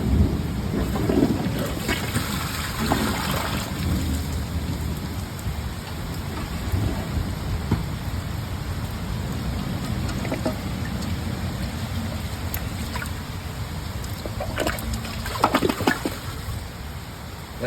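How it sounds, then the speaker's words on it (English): Steady rain falls outside with rumbling, a constant hiss of drops on surfaces lasting throughout and some louder patches near the end. "There's some noises because it's raining,"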